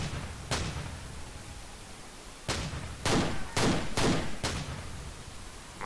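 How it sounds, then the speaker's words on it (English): Gunshots in Grand Theft Auto IV: one isolated shot, then after a pause a cluster of four or five sharp loud bangs fired in quick, uneven succession, with no talking. "All units, we have reports of shots fired"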